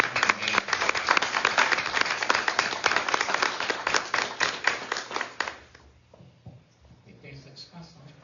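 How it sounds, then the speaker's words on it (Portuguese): Audience at a commemorative ceremony honoring former Brazilian president Pedro Aleixo breaks into dense, steady applause for about five seconds, which then thins out and fades into a quieter room with faint voices. "eu pediria uma salva de palmas"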